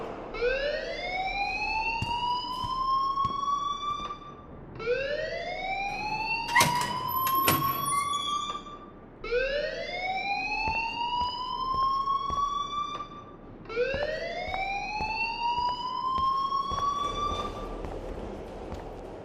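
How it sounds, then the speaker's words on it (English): A school alarm in the game Life is Strange wails in four long rising sweeps, loud and repetitive, with a brief clatter of sharper noises partway through. "please turn off that alarm"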